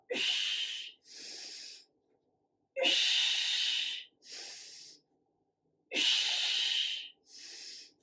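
Deep breathing during an at-home core workout, three slow cycles of loud close inhales and exhales separated by short pauses, no talking.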